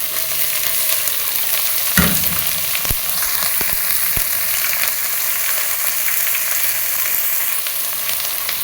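Small omena fish fry in a hot pan with a loud, steady close sizzle that runs throughout, broken by a few brief clinks and stirring knocks, and no talking.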